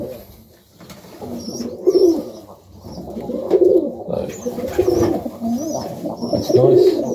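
Pigeons in a loft on a cold Melbourne morning coo repeatedly in low, rolling bursts, several birds close by calling over one another, with faint higher chirps and some background talk.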